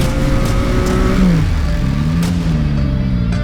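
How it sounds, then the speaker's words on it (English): Motorcycles, including a Yamaha R6, BMW GS 1200 and Yamaha MT-09, ride through Los Angeles town traffic; a loud, close engine drone hums steadily while the pitch dips and climbs as the bikes ease and accelerate. "No better way to get around town than on a motorcycle, especially in LA."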